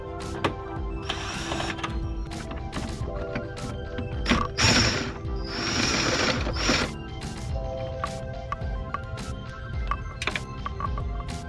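A ratchet wrench works 7mm and 10mm bolts loose near the ECU in the engine bay of a 2014-2019 Corvette, giving close, steady clicking with brief louder bursts of mechanical rattling and no voices.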